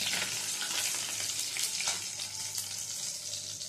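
Fish frying in hot oil in a pan, a dense continuous sizzle heard close up, with no voices over it.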